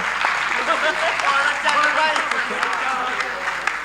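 Audience applause at a Hindi comic poetry gathering, a steady patter of clapping that carries through the whole moment while voices and crowd murmur mix in.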